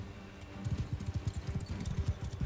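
Cavalry horses gallop in the video game Mount and Blade II: Bannerlord, a fast, rhythmic drumming of many hooves that builds and continues steadily over a low battlefield rumble.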